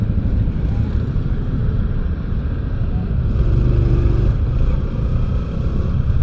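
Road traffic in slow, congested flow produces a loud, steady low rumble of engines that holds throughout with little change, with faint murmurs in the background.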